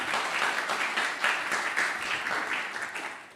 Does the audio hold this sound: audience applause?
yes